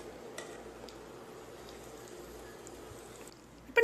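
Vermicelli kesari stirred with ghee in a pan, a soft steady sizzle and scrape of the spoon that runs evenly, ending in a sudden louder clatter.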